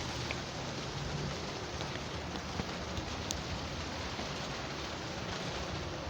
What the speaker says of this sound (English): Yep, indeed it is raining.